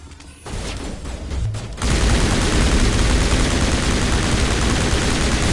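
Gunfire in the Mass Effect video game, sporadic shots at first, then a sudden dense barrage of continuous loud automatic fire that holds steady to the end.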